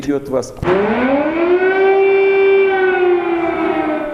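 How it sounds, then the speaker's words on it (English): A loud air-raid siren over Kyiv, Ukraine, rises into a long, steady wail that holds close and strong, after a brief burst of noise at the start. "sirens wailed across the Ukrainian capital"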